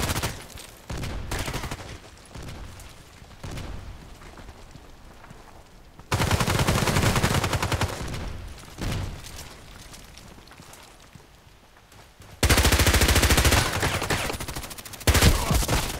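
H&K MP5k gunfire in the video game Contract Wars: loud bursts of rapid automatic fire in several long strings, separated by quieter stretches with light footsteps.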